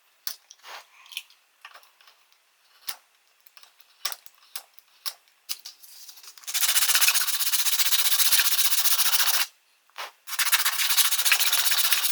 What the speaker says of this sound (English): Now I'm just going to use a bit of sandpaper and a knife and file and things just to smooth it off